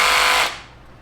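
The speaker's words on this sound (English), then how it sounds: "now it's in hammer function drill. So it's like a hammer and a drill." A Dewalt DCH133 cordless hammer drill runs in hammer-drill mode with a loud, harsh buzzing whir up close, then cuts off abruptly after half a second and leaves only faint room tone.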